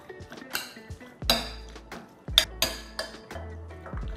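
Pork ribs are stirred in a bowl with salt, sugar, light soy sauce and bean paste for a marinade, giving irregular clinks and knocks of a utensil against the dish, close and fairly loud.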